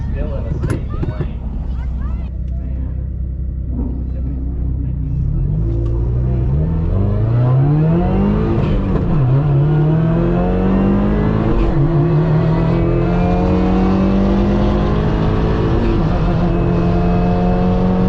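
A Subaru WRX accelerates hard on a track in a roll race beside a Camaro. The engine climbs through rising revs, with a gear change partway, heard loud from inside the car under steady wind roar.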